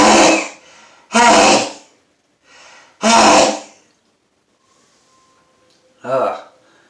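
A person sneezes loudly again and again in an afternoon sneezing fit, heard close up as four strong bursts, each with a sharp gasp or catch before it and quiet pauses between them.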